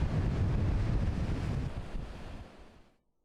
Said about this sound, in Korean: 바다에는 강한 바람과 높은 파도가 일면서 제주 전 해상에 풍랑특보가 발효 중입니다